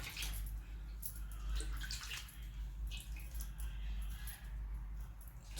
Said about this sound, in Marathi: बीट हे आपण धुतलेलं आहे